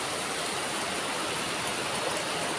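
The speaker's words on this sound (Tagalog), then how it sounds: "biglang bumuhos ang malakas na ulan dito sa Calamba, Laguna" Heavy rain suddenly pouring down in Calamba, Laguna, a dense, steady hiss of downpour that stays loud and unbroken from start to finish with no voices.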